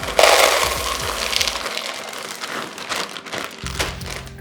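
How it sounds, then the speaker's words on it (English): Callebaut bittersweet chocolate couverture pours into a plastic bowl with a burst of rattling, crinkly clatter that thins into scattered small ticks and settles. "I'm just going to pour my chocolate into a plastic bowl."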